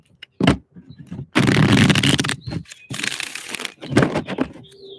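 Crisp, rapid riffling bursts of tarot cards being shuffled up close, several pulses separated by brief pauses and soft taps.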